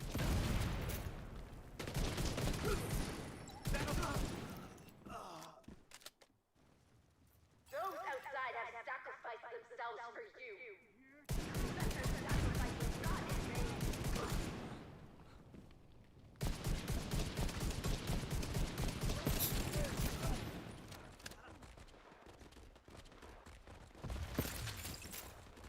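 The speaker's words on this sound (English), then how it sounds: "He's like behind a fucking machine gun." Machine gun fire in the game Division 2 comes as long dense bursts of rapid shots, loud and close, broken by short pauses, with a voice talking over parts of it.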